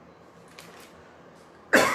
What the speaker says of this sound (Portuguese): Essa tosse está horrível.